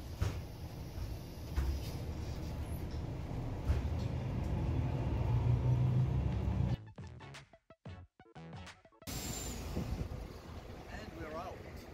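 A private bus in motion, heard from inside as a low, steady engine and road rumble with voices talking over it, cut off by a few seconds of near silence before the rumble resumes.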